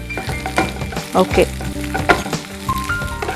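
Green chillies fry in a hot pan with a loud, steady sizzle and crackle, broken by scraping stirs; one short word is spoken.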